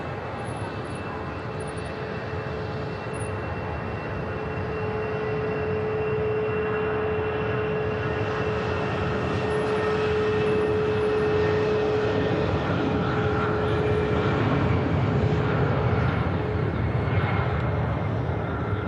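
An EasyJet airliner taxiing at Manchester Airport produces a steady, loud engine roar with a sustained whine, swelling slightly toward the end and continuing without pause.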